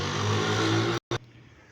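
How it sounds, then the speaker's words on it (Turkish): A passing car with a wide-open, loud exhaust revs hard close by, a dense, roaring engine drone that cuts off abruptly, then leaves only faint background hum. "egzozu sonuna kadar açan e, pek akrabalarını, ailesini, eşini, dostunu sevmeyen insanlar var galiba. Bazen böyle geçiyorlar videoyu çekerken"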